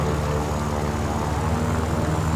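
Steady droning of an aircraft engine running at full power in War Thunder, a constant, loud propeller hum with layered harmonic tones and no break throughout.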